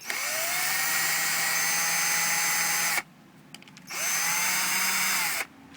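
A power drill loosens clutch cover bolts on a 2006 Honda Rebel motorcycle in two long bursts, spinning up with a rising whine and running steadily, separated by a short quiet pause.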